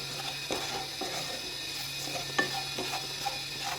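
Asafoetida powder being stirred into chambakka pickle in a pan: a steady soft sizzle with several scraping strokes of a spoon against the pan, fairly close, with no talking.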